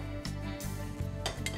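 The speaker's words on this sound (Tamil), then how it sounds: "இப்போ தொக்கு பண்ணுறதுக்கு வேறு ஒரு பாத்திரம் வச்சிடலாம்." A metal cooking pot clanks onto a stove in a home kitchen while prawn and broad bean masala is being made, with a few soft, close knocks and scrapes at moderate level.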